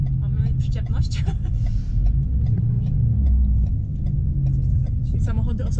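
A Ford F-MAX truck engine rumbles deeply and steadily under load as it climbs a steep hill in the Bieszczady mountains, with people talking over it throughout.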